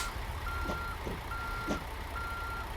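A reversing truck in American Truck Simulator gives three steady, evenly spaced beeps, each about half a second long, over a low engine drone, moderately loud with no talk.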